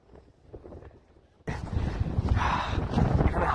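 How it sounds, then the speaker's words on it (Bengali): Mountain wind at the Gulmarg Gondola Phase 2 area starts quiet, then a sudden strong gust hits and keeps buffeting the microphone with a rough, roaring rush for the rest of the moment. "এখানে হাওয়া কিরকম দিচ্ছে,"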